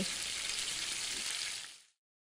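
Duck meat cooking in a cartoon kitchen scene gives an even hiss of sizzling, steady and moderately faint, that fades out abruptly after about two seconds into silence.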